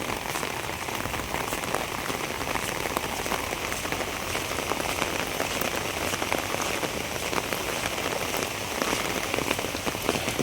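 Steady rain falling and pattering densely on surfaces, a constant hiss of drops that stays even throughout with no voices.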